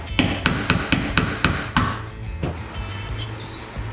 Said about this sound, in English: Every tip tap tap tippity tap of the hammer